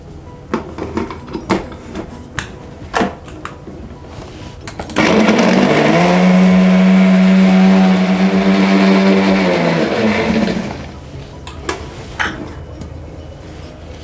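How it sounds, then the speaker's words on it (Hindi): A kitchen blender whirs loudly for about five seconds as it purées coriander-mint green chutney with squeezed lemon, starting abruptly and stopping after a steady high drone, framed by light clinks and handling noises before and after. "अब इसको हम ब्लेंड कर देंगे।"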